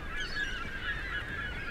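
A flock of birds honks in the video game Tomb Raider, a steady run of goose-like calls overlapping as they take off, moderately distant and alone without voices.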